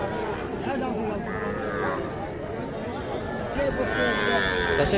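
Calves and cattle at a crowded Aftabganj livestock market in Bangladesh, with low moos rising out of a dense, steady crowd murmur and people talking nearby throughout.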